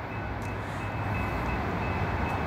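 A northbound GE ES44AC diesel locomotive rumbles steadily in the distance, a low continuous drone with a faint high whine, moderately quiet throughout.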